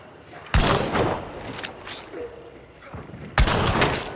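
Gunfire in the video game Hunt Showdown, two loud, sharp shots about three seconds apart, each followed by a rolling echo, with players' voices in between.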